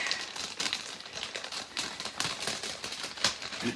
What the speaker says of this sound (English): So I'm just going to cut this side of the bag so I don't cut anything in the bag